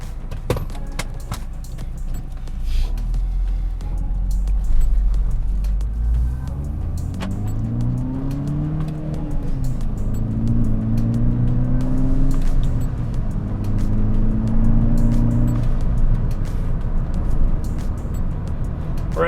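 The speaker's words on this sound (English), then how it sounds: "we're gonna start cruising at 60 miles an hour" A car cruising steadily at 60 miles per hour produces a loud, constant engine drone and road rumble, the engine note rising and settling slightly as speed holds.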